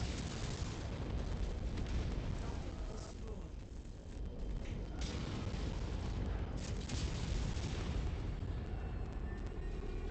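An enemy vehicle explodes in MechWarrior 5: Mercenaries, a dense, rumbling blast that merges with continuous loud battle noise and heavy mech sounds for several seconds.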